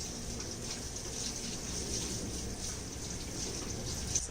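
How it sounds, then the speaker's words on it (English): Tap water runs over dyed silk being rinsed, a steady, moderate splashing hiss that continues throughout without breaks, with no voices. "Again, I'm rinsing down from up to down."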